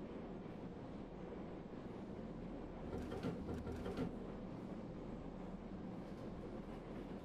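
A train interior in the video game Process: a steady, low, continuous rumble throughout, with a slightly louder rattling swell partway through and no speech.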